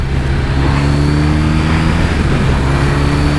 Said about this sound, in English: you just rev this motor a little bit, wind it up a little bit